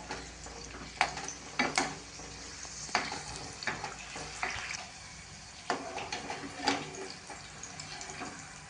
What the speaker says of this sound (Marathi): भज्याबरोबर खाण्यासाठी आपण या मिरच्या पण तळूया.